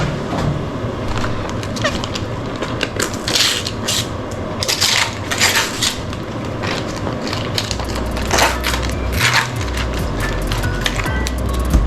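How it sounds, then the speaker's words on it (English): A knife cutting through partly frozen collard greens for sukuma, with repeated crunching, crackling scrapes at an uneven pace, close and fairly loud, and a low hum running underneath. "So I'm using a knife to cut it down. It's a little frozen."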